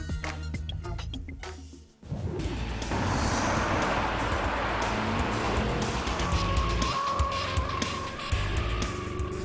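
Porsche Cayenne GTS and BMW X6 pushed hard on a closed stretch of road, a sharp clatter and brief silence giving way to sustained engine roar with tire squeal and passing rush.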